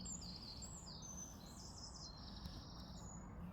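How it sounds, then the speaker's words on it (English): A European robin sings high, thin warbling phrases, faint against a steady low background hum. "That's a robin."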